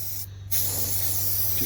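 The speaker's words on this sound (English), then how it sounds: "I'm going to give this a liberal coating of super spray because that is just grit." Lubricant spray applied liberally to gritty parts of a Royal Enfield 350 Meteor motorcycle: a close, loud aerosol hiss starting after a brief pause and holding steady to the end, with a low hum beneath.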